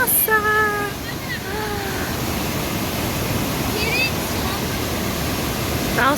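A mountain stream in the Merke mountains gurgles and rushes in a steady, loud wash of flowing water, with a voice briefly heard over it near the start, around the middle and at the end.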